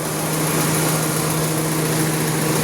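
The engine fan of a 2017 Proton VVT car whirs steadily and loudly up close, a constant droning hum with no change in pitch and no talking.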